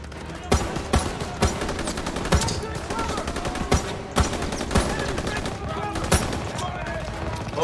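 Gunfire in the video game Call of Duty, sharp loud shots cracking out at irregular intervals over a dense, busy battle din, with sustained bursts filling the gaps.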